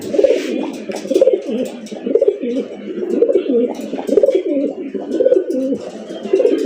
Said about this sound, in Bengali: আফসান গিরিজের রেসার কবুতর